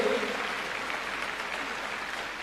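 Steady audience applause for school students honoured on stage at a Delhi government ceremony, continuous even clapping from a crowd throughout.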